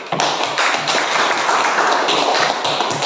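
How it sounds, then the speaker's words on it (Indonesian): Classroom audience applause in a school lesson: many hands clapping together, loud and close, a dense patter that carries on for a few seconds without any voices. "berikan aplaus dulu"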